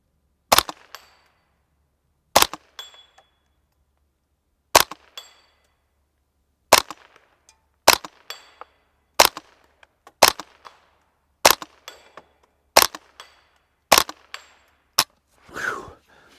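Savage A22 takedown rifle, a .22 rimfire semi-auto, firing about eleven single shots outdoors at a 100-yard target, each a sharp close crack with a short ringing tail, spaced roughly one to two seconds apart.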